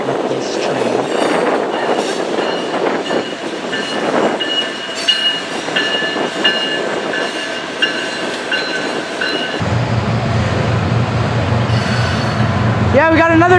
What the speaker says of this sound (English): we got another BNSF train